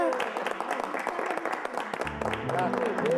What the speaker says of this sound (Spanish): un aplauso para Alicia, chicos